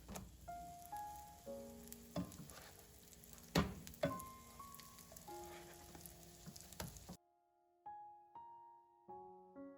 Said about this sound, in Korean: 호떡을 구울 때 버터 또는 마가린을 넣으면 더욱 고소해져요.